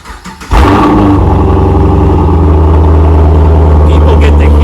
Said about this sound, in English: hey Max, can you start your car real quick